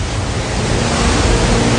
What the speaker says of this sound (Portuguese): A água se precipita em direção à gravidade do Sol com um grande tsunami global.